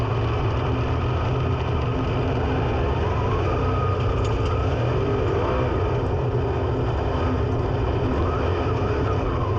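Engines of USAC CRA race cars at Santa Maria drone loudly and continuously, a dense rumbling roar of several motors running together close by with no voices over it.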